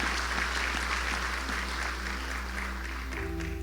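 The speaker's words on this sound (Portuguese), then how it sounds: "Aplaude a Deus por isso." A congregation applauds during a sermon, giving a steady, moderately loud patter of clapping throughout, with a low sustained hum underneath and a faint tonal keyboard note entering near the end.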